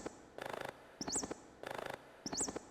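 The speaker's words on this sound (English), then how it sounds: "Let's see what these bird tweets sound like." Sampled bird tweets played in a live-coded music pattern, short chirps repeating in a regular looping rhythm, each phrase ending in a bright rising-falling whistle, clear and alone.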